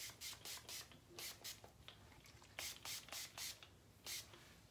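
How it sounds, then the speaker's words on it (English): Straight Silk argan oil heat protector spray misted onto a section of hair, several quick close hissing bursts in a broken rhythm, each short and fairly soft. "So I'm gonna spray this throughout the section."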